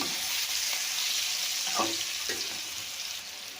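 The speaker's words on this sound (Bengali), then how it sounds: "ফোড়নে শুকনো লঙ্কাটাও দিয়ে দিয়েছি" Green and dried chillies sizzle in hot tempering oil, a steady broad hiss with a few faint stirring scrapes, fairly close and with no talking.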